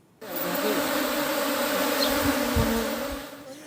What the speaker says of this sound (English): This beekeeper is putting out videos of himself covering his head and shoulders with thousands of bees.